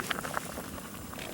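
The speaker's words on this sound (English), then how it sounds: "Pasta boiling." At a campsite, pasta boils in a pot, giving a close, steady bubbling and popping with no voices.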